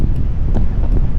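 Steady wind on Golo Island, Looc, Occidental Mindoro, buffets the microphone, producing a loud, continuous rumble with no voices.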